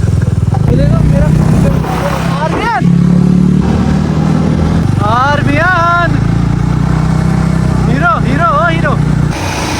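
A motorcycle engine drones steadily underneath someone speaking loudly close by, the engine hum continuing throughout with slight shifts in pitch.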